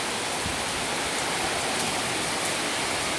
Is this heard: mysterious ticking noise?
no